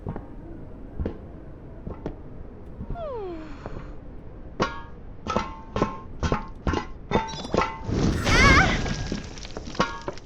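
A series of sharp, heavy hammer impacts in the video game Maiden lands in quick succession, growing denser toward the end with a crashing, shattering burst.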